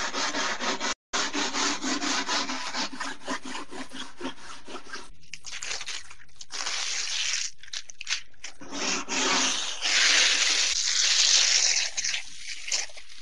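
Foil finish is rubbed hard by hand onto the seams of a wooden cornhole board, producing loud, continuous scraping strokes with brief pauses between them.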